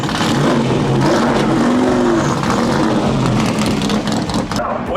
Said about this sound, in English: the sound and smell of race cars is a fantastic way to start the day